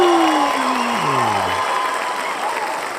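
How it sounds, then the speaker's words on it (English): A live-show audience breaks into loud, sustained applause with some cheering, a dense wash of clapping that carries on evenly while a falling whistle-like tone sounds near the start. "let's have a big cheering squad for your prototype"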